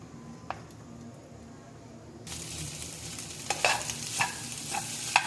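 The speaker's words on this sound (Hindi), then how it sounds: "ये मैंने जो मैरिनेट किया था ये फ्राई हो गया है।" Marinated chicken frying in a pan, a low sizzle that turns louder and brighter halfway through, with scattered stirring scrapes and spatters up close; no voices.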